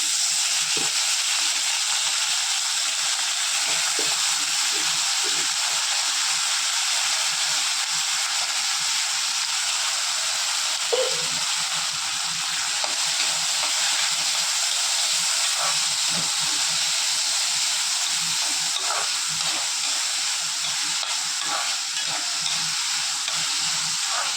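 Soaked moong dal sautéing in a pan, a loud continuous hiss and sizzle with occasional faint scraping of a spoon, close by and steady throughout.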